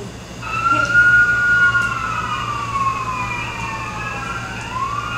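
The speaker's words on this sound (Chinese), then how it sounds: "消防车来了" A fire truck siren wails loudly nearby, its tone sweeping up and down in long rising and falling cycles over a low traffic rumble.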